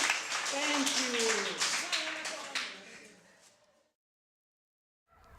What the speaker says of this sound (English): Can you clap hands